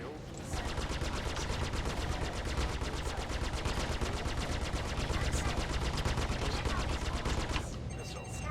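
Spaceship guns in Star Citizen fire steadily and loudly in a rapid, unbroken automatic stream for about seven seconds before stopping abruptly.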